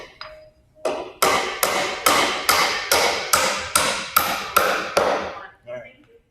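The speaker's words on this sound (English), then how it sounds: "everybody gets the idea of how to pound nail" Hammer drives nails into a wooden trimmer stud during header framing: about ten loud, close, evenly spaced blows, each with a ringing decay, preceded by a couple of lighter taps.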